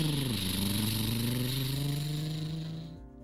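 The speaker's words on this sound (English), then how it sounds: "As Waverly and Sullivan took off in their dirt bikes, it actually scared the bunnies" Dirt bikes taking off, a steady buzzing engine drone that rises in pitch as they pull away, then cuts off at the end; no talking.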